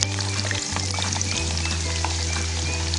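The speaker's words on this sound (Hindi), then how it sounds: "अब आलू को भी हम इसी तरह फ्राई करेंगे" Potatoes deep-frying in hot oil, a steady loud sizzle and bubbling with a low hum underneath, close by and without talk.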